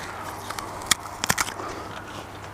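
Crunchy bites into an unpeeled firm mango, a few sharp crisp snaps clustered around the middle, close and distinct against a quiet background.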